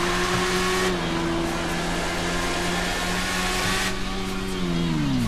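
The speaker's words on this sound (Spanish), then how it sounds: "Caballitos con motocicleta de 4 tubos de escape." A four-exhaust motorcycle in a video game holds a steady, loud engine drone while pulling a wheelie, its pitch shifting slightly as it revs and easing near the end, with no one talking.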